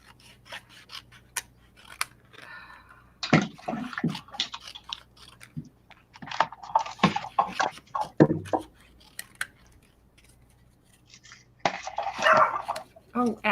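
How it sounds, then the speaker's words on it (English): A Chihuahua gives short, sharp barks in a few bursts near a yard, mixed with rubbing and scraping sounds while people talk. "Sounds so vicious, Chihuahua."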